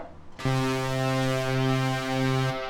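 A big layered lead synth built from an OB-X patch and Hybrid Keys, with no effects on it, holds one loud, steady harmonic-rich note for about two seconds and then cuts off cleanly.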